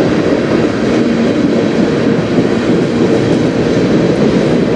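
A CN manifest freight train rumbles past close by, a steady loud roar of rolling wagons and clattering wheels throughout.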